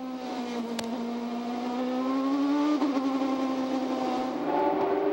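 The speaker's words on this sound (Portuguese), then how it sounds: "Você tem a imagem e vai escutar o motor do Hélio Castro Neves." An IndyCar engine at the 2007 Detroit Grand Prix screams at high revs, its whine climbing steadily in pitch as it accelerates, loud and close throughout.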